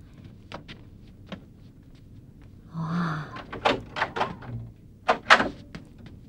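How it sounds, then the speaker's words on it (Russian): An apartment door is pulled shut with a soft thud and latch click, close by, followed by a few light knocks and handling sounds in a quiet room. "Я закрою двери, станет еще прохладнее."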